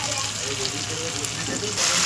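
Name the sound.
sauce poured into frying masala, sizzling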